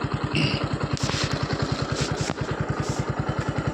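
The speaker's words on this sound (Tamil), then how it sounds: "வண்டி ஸ்டார்ட் பண்ணிட்டேன்" A 2019 TVS XL 100 moped runs after a self-start, its small engine putting out a fast, even, thumping pulse, close and steady, with faint higher noises over it.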